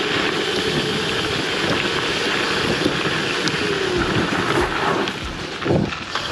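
An MX650 motorcycle ridden over an off-road section: continuous engine drone mixed with heavy wind buffeting and rough, rumbling bumps, loud and close throughout, with no talking.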